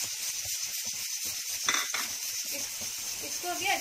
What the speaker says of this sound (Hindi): इसको अभी अच्छे से फ्राई करके लेंगे